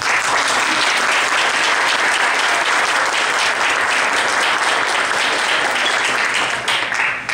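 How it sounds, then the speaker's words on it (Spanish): Warm, sustained applause from an audience honouring a literary critic at a César Vallejo tribute, many hands clapping in a thick, even roar that holds steady for several seconds before easing slightly at the end. "Unas palmas para él, por favor."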